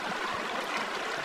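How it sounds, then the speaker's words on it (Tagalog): Shallow stream flowing over rusty soil, sand and moss: a steady, soft rushing and trickling wash with no distinct events, faint and continuous. "Nagdadaluyan ng tubig."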